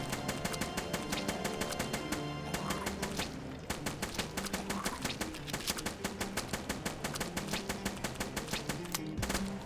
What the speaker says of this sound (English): Good, a heavy assault rifle, that should speed up the process.